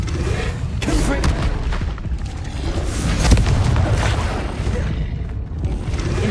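Booming Confringo spell blasts in Hogwarts Legacy, a continuous loud rumble of explosions with a stronger burst near the middle, with a voice partly under the noise.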